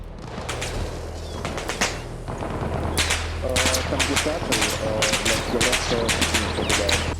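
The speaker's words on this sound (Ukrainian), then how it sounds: "Так то машина стріляє" Bursts of heavy gunfire from an armored vehicle's gun crack repeatedly in Arma Reforger, loud and close, over a low steady rumble with faint voices in the background.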